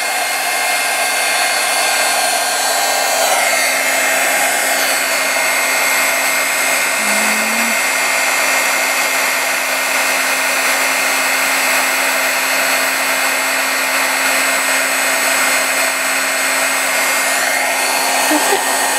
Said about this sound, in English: I will get out my noisy heat gun again. Warm that up a second.